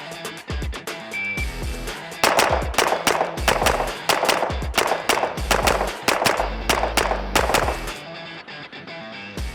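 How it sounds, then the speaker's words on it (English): Pistol fired at near and far targets in a carry optics drill, heard as loud, sharp cracks in quick pairs with short pauses, repeated across the string. "I'll shoot 2 shots up close, transition to the back, 2 shots, close 2 shots"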